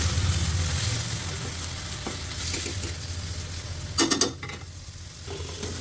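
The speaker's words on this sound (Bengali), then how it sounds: "সব বাটা একসাথে করে দিয়ে দিলাম চুলায়" Onion, garlic and ginger paste fries in a pan on the stove with a close, steady sizzle, broken by a few scraping stirs and a sharp clatter toward the end.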